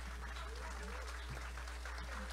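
Crowd at a 7 de Setembro parade in Pomerode applauds the Senai unit, faint scattered clapping heard beneath a strong low hum and distant voices.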